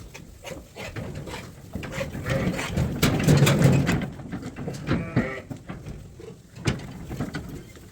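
Sheep bleat as they run through a wooden chute on a farm, their cries mixing with knocking, rubbing and hoof clatter against the boards, building to a dense, busy peak mid-clip before trailing off into scattered bumps.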